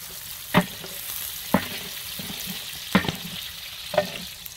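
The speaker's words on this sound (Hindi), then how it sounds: "जब तक कि मैं प्याज भून रहा हूँ," Onions frying in cooking oil in a large pot, part of an outdoor village goat gravy cooking session; a steady low sizzle runs throughout, with four sharp stirring scrapes spaced about a second apart.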